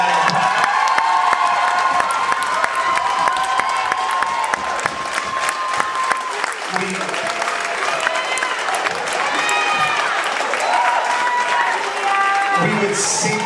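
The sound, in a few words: audience applause and cheering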